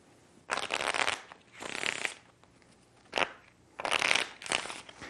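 A deck of playing cards is riffle shuffled, split into two halves and interwoven. It comes as five quick, loud fluttering bursts with brief gaps between them, close up and without talk.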